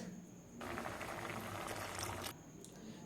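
Fig curry bubbles quietly in a pot, then milk pours in for about two seconds as a louder close splash and gurgle before the low simmer returns, with no voices.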